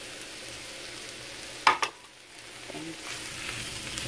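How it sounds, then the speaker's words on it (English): Bacon goes into a pan of sautéing garlic, onions and butter, starting a soft, low sizzle after a couple of sharp clatters, with no talk. "Then, we can put our bacon."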